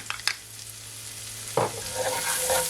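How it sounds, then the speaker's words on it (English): Finely chopped onion sautéing in melted butter for garlic butter shrimp, a soft continuous sizzle with a couple of sharp utensil clacks against the pan, close and free of talk. "Just gonna allow it to saute for at least 15 seconds."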